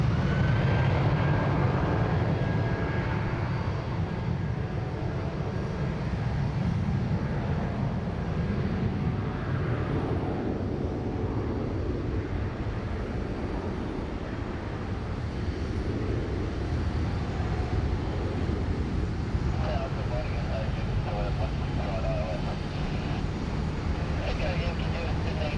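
An Air Canada airliner, Flight 034 bound for Vancouver, rumbles at Sydney Airport as a broad, steady, distant jet roar that fills the background while someone talks over it.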